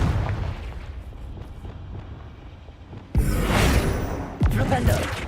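The Confringo spell in Hogwarts Legacy sets off a sudden booming explosion with a bright burst. A second sharp blast follows a moment later, and both rise out of quieter game ambience.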